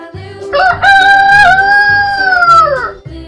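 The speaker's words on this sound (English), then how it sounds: "Rooster." A rooster crows once, a loud, drawn-out cock-a-doodle-doo heard close, over faint rhythmic background music.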